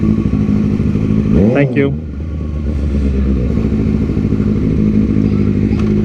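A motorcycle rides along a city sidewalk, its engine rising in a loud close revving sweep that passes by and then settles into a lower rumble while a voice briefly speaks.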